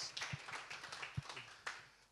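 A church congregation claps during a worship service, producing soft, scattered hand claps that stay faint and irregular.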